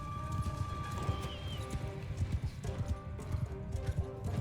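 Cavalry horses gallop in a Shokuho battle, with a continuous rumble of hoofbeats, scattered clip-clop strikes, and a brief whinny amid steady game music and ambient battle noise.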